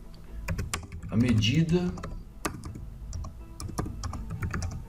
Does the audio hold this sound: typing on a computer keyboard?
yes